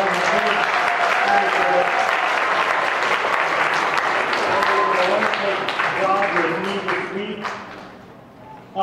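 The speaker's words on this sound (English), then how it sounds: "Give them a round of applause." A congregation applauds after a sermon at a Vacation Bible School service, loud dense clapping with voices and tones mixed in, tapering off toward the end.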